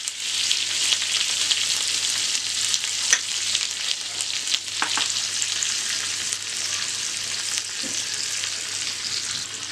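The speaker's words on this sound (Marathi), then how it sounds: "आपला हा तडका आता रेडी आहे।" Cumin, mustard seeds, green chillies, curry leaves and a little coriander crackle and sizzle steadily in hot oil for a poha tempering, a continuous close frying hiss with occasional sharp pops and no voices.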